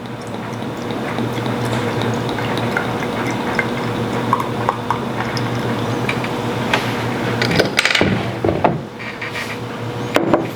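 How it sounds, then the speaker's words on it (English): Beer slowly poured, trickling and fizzing softly into a glass for several seconds, with a few small clinks and knocks near the end. "A little slow pour."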